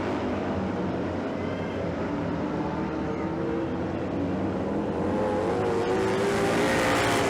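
Racing motorcycles at the Dairyland Classic race on June 3, 2022 roar past on the track, a loud, continuous engine drone that holds steady and swells slightly toward the end as the bikes come by.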